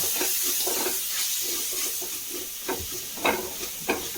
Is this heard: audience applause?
no